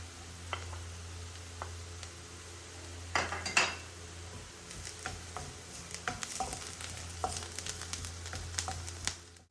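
Garlic and onion fry in a pan, a steady close sizzle under a low hum, with metal utensil clinks and stirring scrapes bunched in the middle and toward the end.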